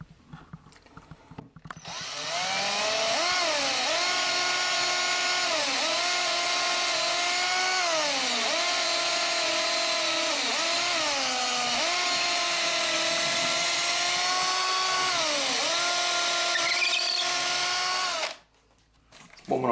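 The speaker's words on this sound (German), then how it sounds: "Ich habe extra nur 5 mm gebohrt" A power drill with an extra-long bit bores into wood for a terrace lounge build, a loud sustained whine that dips in pitch repeatedly under load for about fifteen seconds before stopping.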